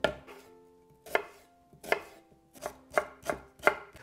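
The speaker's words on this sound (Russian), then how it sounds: "Начнем с нарезки лука." A knife chops onion into fine dice on a board, seven crisp, evenly spaced strikes close up, with no talk.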